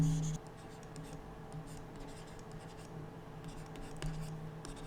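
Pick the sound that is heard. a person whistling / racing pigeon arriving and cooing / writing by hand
writing by hand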